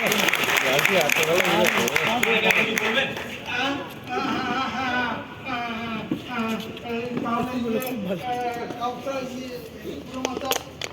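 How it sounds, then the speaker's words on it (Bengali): Applause fills the clip, a steady wash of clapping that continues from start to finish beneath several voices, which stay prominent and fairly loud throughout. "হাততালি হাততালি"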